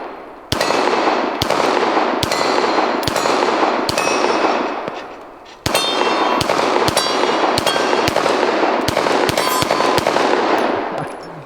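A Glock pistol fires rapid, loud strings of shots at steel targets outdoors. The two long bursts of evenly spaced cracks are broken by a brief pause, and the shots ring with metallic clangs from the plates.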